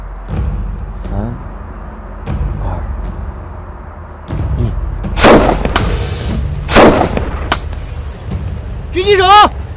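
Gunfire against tanks in a Chinese TV war drama: heavy booming shots and sharp cracks ring out over a tense rumbling background, with voices calling out amid the blasts.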